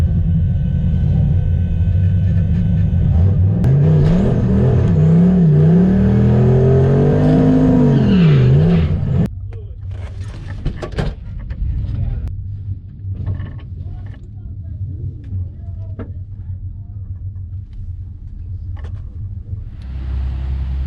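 A stick-shift Foxbody Mustang with a turbocharged 408 launches down a drag strip, its engine roaring and rising through the gears for several seconds before the sound cuts off. Quieter rumbling and creaks follow, and a voice is heard faintly.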